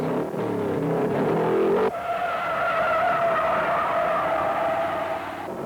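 A modified stock car spins out in the first turn during a 1968 NASCAR 500-lap race, tires squealing and skidding over a loud, continuous engine roar from the pack.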